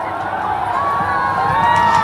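An unruly crowd of Adivasi protesters outside a district collectorate office makes a sustained roar of many voices, a dense, fairly loud and steady mass of shouting with no single voice standing out.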